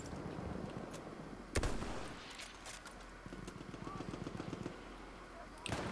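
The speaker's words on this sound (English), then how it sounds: "Oh god, someone's shooting me." Rapid automatic gunfire in the video game Battlefield 1 comes as a faint rattling burst under a low game background, with a couple of sharper isolated bangs before and after it.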